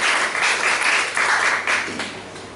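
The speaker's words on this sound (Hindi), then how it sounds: "ताली बजाइए परमेश्वर के लिए" A church congregation claps during a Hindi-language sermon, steady applause from many hands that swells and dips in waves, moderately loud and without speech.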